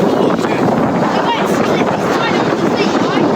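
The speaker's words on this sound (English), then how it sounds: "That's a big old wave, that." Strong wind roars and buffets the microphone aboard a sailing boat with no engine, caught in a storm at sea, while big waves wash against the hull in a continuous loud rush with occasional surges.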